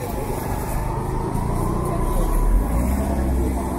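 Vehicle traffic arriving at the Anganewadi fair near the Bharadi Devi temple at Masure: a steady, close low rumble of engines and tyres with no clear breaks.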